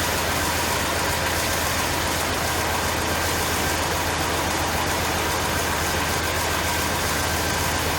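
A 1999 Chevrolet Suburban K2500 engine runs with its belt turning: a steady, continuous idle drone that stays loud and unchanging throughout, heard up close with no voices.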